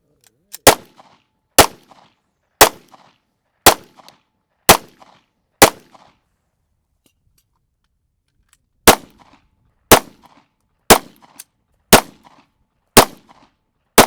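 Rifle or pistol gunfire rings out at a shooting class in Dallas, Texas, with six sharp, loud shots in steady rhythm, a pause of a few seconds, then six more evenly spaced reports echoing at close range.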